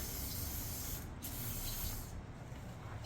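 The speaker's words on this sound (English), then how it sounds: "my guess is I have to spray and make this a little bit more slick" A continuous close hiss of spray lubricant coats a motorcycle tire bead, with two short breaks in the flow and a small clunk at the end.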